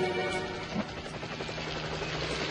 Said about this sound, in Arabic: إنه صوت مروحية فهد.